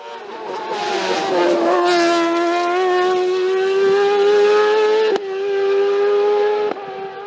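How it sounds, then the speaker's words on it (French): A Speedcar GTR race car climbing a hillclimb course at Saint Gouëno in 2022, its engine holding a loud, sustained high-pitched howl that rises and falls, with two sharp gear-change breaks near the end. "d'Yves Tolly, qui au volant de son Speedcar GTR remporte la classe"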